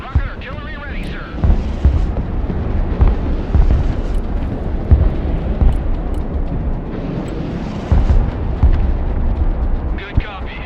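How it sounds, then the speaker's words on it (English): A rumbling roar of rocket artillery launches and distant impacts in the real-time strategy video game Broken Arrow, sustained and loud throughout with booming swells, under brief clipped voice callouts. "Rocket artillery ready, sir."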